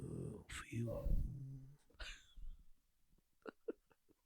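A dog roused from sleep gives a few short, scattered yelps and snuffly noises at close range, starting after a burst of voices and fading to sparse, quiet sounds.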